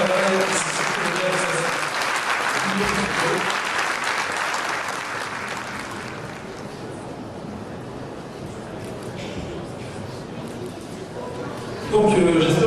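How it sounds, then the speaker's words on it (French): An audience at a mayor's New Year address applauds the children's municipal council with sustained, dense clapping that swells at first and then gradually thins and softens, and a voice briefly cuts in at the end. "Vous pouvez les applaudir parce que franchement, je vous assure, c'est beaucoup de travail"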